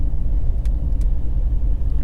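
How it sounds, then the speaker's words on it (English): A logging truck rolls along Route 3 near Arnolds Corner in King George, Virginia, giving a steady, heavy low rumble with road noise that holds evenly throughout. "Waiting on that logging truck."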